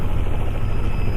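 A helicopter on a sightseeing ride near its helipad, heard from inside the cabin as a loud, steady rotor and engine roar with no pauses.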